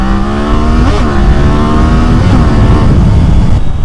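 Triumph-style Daytona 660 motorcycle engine running loud and close on a road ride, holding a steady drone with rising and falling revs throughout.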